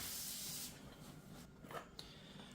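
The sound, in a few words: spraying WD-40 on a freshly drilled surface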